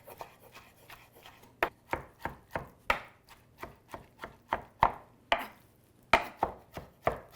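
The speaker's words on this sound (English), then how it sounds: "the spinach is cool off and we gotta chop a little bit" A knife chops cooled cooked spinach on a board in close, crisp strokes, about twenty of them in a fairly regular rhythm with short pauses, and no voices.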